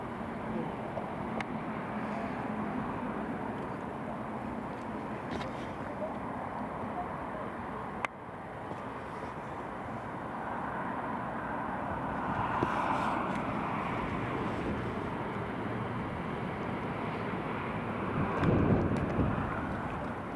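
A British Airways airliner taxiing at Newcastle International Airport gives a steady distant engine rumble and whine, mixed with wind buffeting on the microphone, swelling slightly toward the end.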